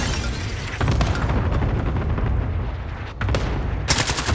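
Cluster strike explosions and gunfire in Call of Duty Warzone, a dense, loud barrage of booms and rapid shots that runs the whole time, with a sharp fresh burst near the end.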